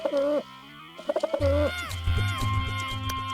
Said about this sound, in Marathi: खोलीत कबूतर घुसले?